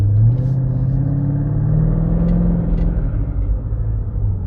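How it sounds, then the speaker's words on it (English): A Mercedes R230 SL500 V8 engine, recently troublesome, hums in a steady low rumble from inside the car as the driver eases gently onto the throttle, continuous and fairly loud with no talking. "Okay, I just rolled on the gas a little."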